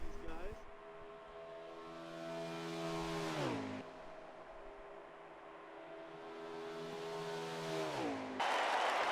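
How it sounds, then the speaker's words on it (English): Race cars exiting pit lane at Daytona in a CRL Truck Series race, engines droning and rising in pitch as they accelerate, then a sharp downshift drop, repeated twice, with commentary talking over the engines. "They've got cars exiting from pit lane here."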